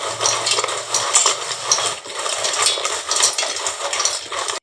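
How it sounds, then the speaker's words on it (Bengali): Kashmiri chilli powder being stirred into tomato chips: a spoon scrapes and clinks steadily against the bowl or pan, close and continuous, with no talking. "ওপর থেকে আবারও 1 চা চামচ এখানে দিয়ে দিলাম কাশ্মীরি লঙ্কার গুঁড়ো দিয়ে খুব ভালোভাবে মিশিয়ে নিচ্ছি"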